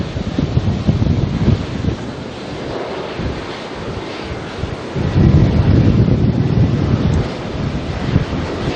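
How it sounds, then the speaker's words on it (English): Strong, wet southerly wind buffeting a microphone at Auckland Airport, a continuous heavy roar that dips briefly and then surges louder, close and dominant with no talk. "a wet, strong southerly"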